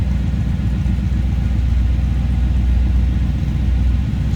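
Pickup truck with chrome bed rails idling steadily, a continuous low rumbling engine drone filling the whole stretch with no talk over it.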